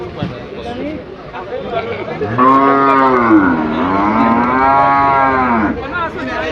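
A bull moos loudly and close, one long drawn-out call with background chatter from people nearby at a cattle market in Sylhet, Bangladesh.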